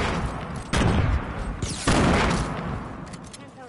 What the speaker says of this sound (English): He threw a nade.